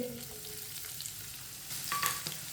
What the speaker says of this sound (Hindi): एक बरीक कटा हुआ प्याज। प्याज डाल लेंगे।